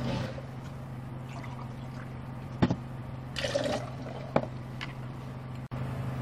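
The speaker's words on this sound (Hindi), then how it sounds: "दो गिलास अब पानी डालेंगे।" Water pours steadily into a glass with a continuous liquid splash, joined by a few sharp clinks near the end.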